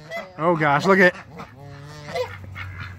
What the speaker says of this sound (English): He's an angry little goose.